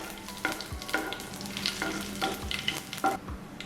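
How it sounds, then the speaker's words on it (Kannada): Crushed garlic frying in a little oil in a pan, a soft steady sizzle broken by several distinct scrapes of a spoon stirring, close and fairly quiet with no talk. "ಬೆಳ್ಳುಳ್ಳಿ ಸ್ವಲ್ಪ ಎಣ್ಣೆಯಲ್ಲಿ ಫ್ರೈ ಮಾಡ್ಕೊಳ್ಳೋಣ"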